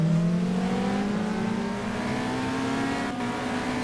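Ferrari race car in GTR2 at Monza holds a steady, loud engine note with a harmonic pitch climbing gradually under throttle, a brief dip near the end, on worn soft tires.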